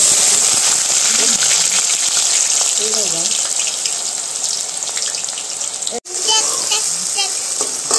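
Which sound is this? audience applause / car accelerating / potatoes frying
potatoes frying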